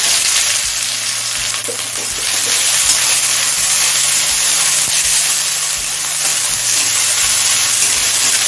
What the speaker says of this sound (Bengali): পাতলা করে কুচনো পেঁয়াজ দিচ্ছি